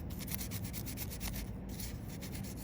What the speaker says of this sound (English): now I'm going to use my Scotch-Brite pad to clean up the area that needs resoldering